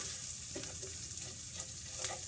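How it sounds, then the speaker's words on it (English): Bacon and onion sizzle together in a frying pan with a steady crackling hiss and a few stirring scrapes, close and continuous, no talking. "I'm frying the bacon and the onion together."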